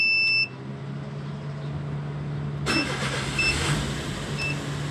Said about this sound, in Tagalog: start natin yung ating minivan para makita nyo